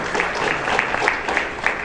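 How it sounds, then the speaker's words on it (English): A brief burst of audience clapping at a NYC Reach breakfast event, a short round of applause lasting under two seconds. "I kind of want to give him a round of applause for that right now"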